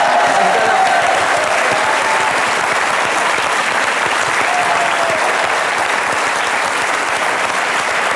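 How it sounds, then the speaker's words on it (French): A French television studio audience claps on a talk-show set, sustained dense applause at full volume from start to finish, with no voices on top. "Applaudissez Macha Merrill."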